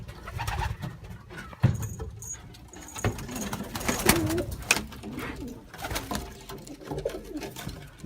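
Bulgarian breed pigeons cooing inside a loft, several soft low coos rising and falling at close range, mixed with rustling, wing flutters and light scratching, with no talk over them.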